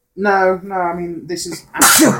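Someone talks for a moment, then lets out a single loud, close sneeze that bursts over the end of his speech.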